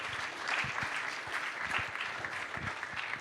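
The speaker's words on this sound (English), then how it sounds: "Give yourselves a round of applause." A live podcast audience gives a round of applause at the end of a show, continuous and close, with dense hand claps filling the whole stretch at an even level.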